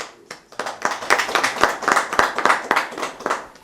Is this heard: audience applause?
yes